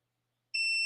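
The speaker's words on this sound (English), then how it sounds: "See, I'm up and it's still beeping." An electronic alarm starts abruptly after half a second of silence and then holds a shrill, piercing tone with several sharp harmonics. It sounds close and steady.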